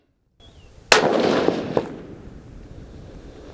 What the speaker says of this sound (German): nochmal ein Schuss auf 100 Meter